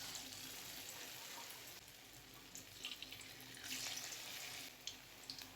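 Potato-carrot pakoras fry in hot oil, giving a steady faint hiss like running water, with soft crackles and pops rising in the second half.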